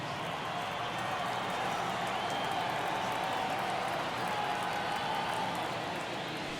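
Baseball stadium crowd noise in the MLB The Show 23 video game, a steady, even roar of many distant voices with a faint murmur of cheering that holds at a constant level throughout.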